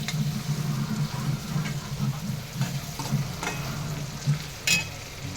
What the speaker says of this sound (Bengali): পেঁয়াজটাকে হালকা করে ভেজে নেবো